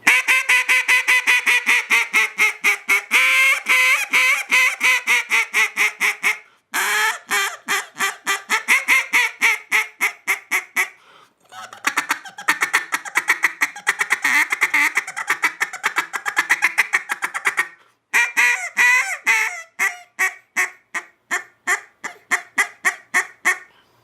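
Caller Hoss waterfowl call blown hard at close range, giving loud, rapid goose-like honks in quick strings, broken by short pauses between bursts, with no talking.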